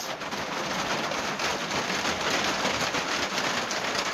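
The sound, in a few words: rain on cabin roof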